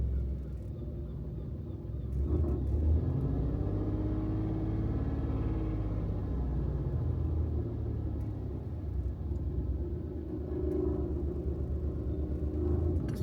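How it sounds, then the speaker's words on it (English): A big SUV's engine idling at very low revs, giving a steady, deep rumble that stays close and continuous with little change in pitch throughout. "If I lower the revs, it rumbles."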